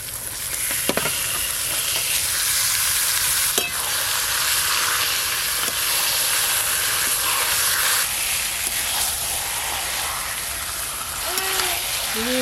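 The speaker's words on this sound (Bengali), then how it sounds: "এবার কিন্তু সব কিছু একসঙ্গে একটু ভালো করে কষে নেব, যতক্ষণ না চিকেন থেকে জল ছাড়ে।" Marinated chicken stir-fried with ginger, garlic and onion paste in a pan for chicken kosha, a constant loud sizzle and hiss with scraping stirs and a few clinks from the spatula.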